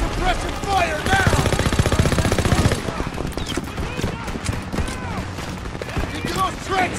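Heavy machine-gun fire and scattered rifle shots in Call of Duty: WWII, set on a Rhine battlefield with AA guns, trenches and smoke grenades, loud and rapid with overlapping bursts, with shouted voices and battle noise in the mix.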